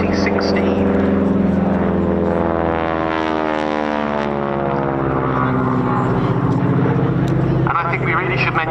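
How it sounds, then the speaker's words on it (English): A Pratt & Whitney Wasp radial aircraft engine drones loudly and steadily on a propeller plane at an RAF Cosford air show, its throbbing pitch sliding slowly as the aircraft passes nearby. "that very distinctive engine noise, this Pratt & Whitney Wasp, which is a radial engine"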